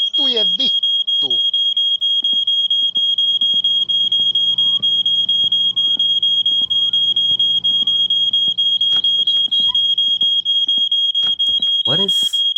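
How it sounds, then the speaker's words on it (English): A smoke alarm sounds a loud, continuous high-pitched electronic tone in a home kitchen where something nearly caught fire, holding steady throughout while a person speaks briefly near the start and end. "What is this beeping noise?"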